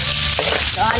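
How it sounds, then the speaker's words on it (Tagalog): Garlic fries in a pan with a loud, dense, continuous sizzle heard up close. "ilagay po natin yung itong bawang"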